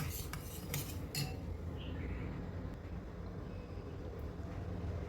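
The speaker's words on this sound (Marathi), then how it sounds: "साखर विरघळेपर्यंत असं फिरवायचं" A spoon clinks against a vessel a few times while stirring milk and sugar until the sugar dissolves, soft scraping under a quiet room hum.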